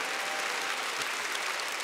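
A concert audience in Riga's Ķīpsala hall applauds during a tribute concert, a continuous, fairly soft and even patter of many hands clapping without a break.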